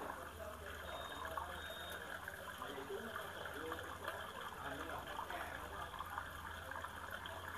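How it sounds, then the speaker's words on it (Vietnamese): A Sanyo washing machine drains water in a steady, continuous gush with a low hum underneath, fairly close, with no talk over it. "Rồi máy đang xả nước ra."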